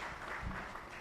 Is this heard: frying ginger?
no